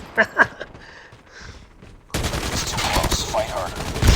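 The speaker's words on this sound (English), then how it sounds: "let's see how we can get on with this hip firing with an M4LMG" M4LMG light machine gun hip-fired in the Call of Duty Mobile game: a couple of sharp shots first, then a sustained, loud rattling burst of automatic fire.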